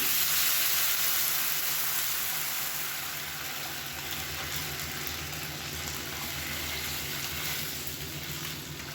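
Tomato and tamarind water poured into a hot pan of sautéed ingredients, with a steady, close, continuous sizzle and frying hiss that stays fairly even throughout, no voices.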